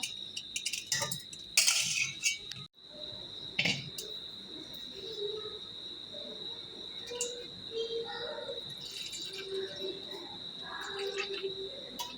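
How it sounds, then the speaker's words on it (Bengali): Crickets chirp steadily in a high, continuous drone, with a few sharp clatters early on and faint bird calls in the background. "ঝিঝি পোকার শব্দে মাথা শেষ হয়ে যায়"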